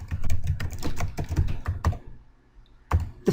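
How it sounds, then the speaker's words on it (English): Rapid typing on a computer keyboard, close and crisp key taps in a quick irregular stream, pausing briefly before a few final keystrokes. "I'll click in the first one and type my name."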